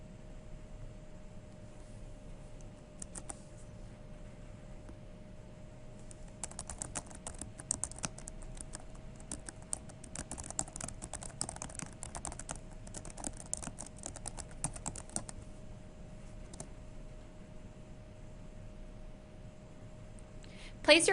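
Steady typing on a computer keyboard while entering rubric text, a dense run of quick clicks in the middle stretch with sparser keystrokes before and after, close and clear over a low constant hum.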